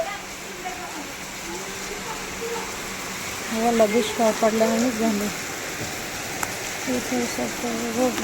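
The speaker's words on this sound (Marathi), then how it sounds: "पाणीच पाणी बघा पाणी नदी व्हायला बघा एवढा पाऊस आहे" Steady broadband rain noise from a cloudburst in Pune fills the background throughout, with a person talking over it.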